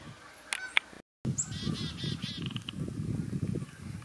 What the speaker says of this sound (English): Got some birds on a bird feeder next to us.